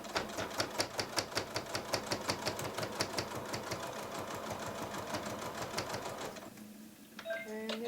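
A domestic sewing machine fitted with an M foot stitches a zipper bag in a fast, steady run of close mechanical clatter that stops after about six seconds, leaving a brief quieter tail with a few light clicks.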